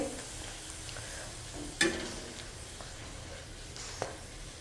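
Green peas kachori deep frying in oil makes a steady, close bubbling sizzle, broken by a sharp clatter partway through and a softer knock near the end, with no one speaking.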